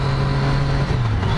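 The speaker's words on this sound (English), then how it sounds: "Love that popping." Triumph Daytona 675R motorcycle with a compact inline-three engine, its exhaust rumbling steadily and loud at close range with light popping, riding in Mumbai; no talk.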